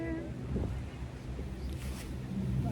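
Rough, gusty wind at a great height buffeting the microphone with a low rumble, steady and fairly loud throughout.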